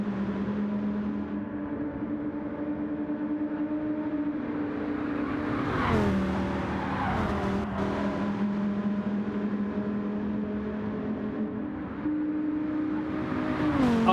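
Race cars in a racing video game at Willow Springs, engines droning steadily with pitch shifts as a car brakes and runs off the track at turn 7, no talk.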